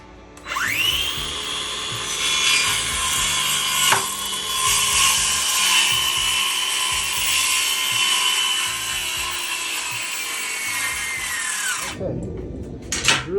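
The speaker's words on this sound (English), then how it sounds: "we're gonna go ahead and slice this piece of lumber into the length that we need it." Power saw cutting a piece of lumber to length, a loud close whine that spins up, holds steady for about eleven seconds and then winds down, with clattering as the cut ends.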